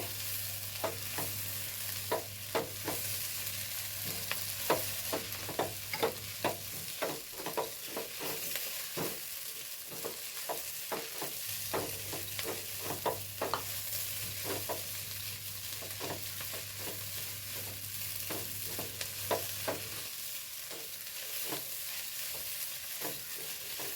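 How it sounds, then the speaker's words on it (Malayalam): Onion and grated coconut fry in a pan under a constant soft sizzle, punctuated by regular scraping taps of a stirring spoon, with a low steady hum beneath. "ഒന്ന് ഇളക്കി കൊടുക്കേ"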